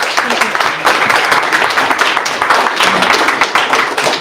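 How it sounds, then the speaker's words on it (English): Audience applause after a round of startup pitches at a livestreamed pitch event, a dense steady patter of many hands clapping at once, loud and sustained throughout with no pause. "applause again for all of them"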